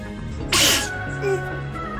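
A single sharp sneeze bursts out over a quiet background with a low hum, followed by a faint trailing sound.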